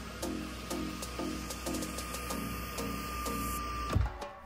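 Electric sunshade on the panoramic roof of a Leapmotor T03 car running, a steady motor whir with rhythmic whining pulses, ending in a brief thump as it stops, heard alone in the cabin.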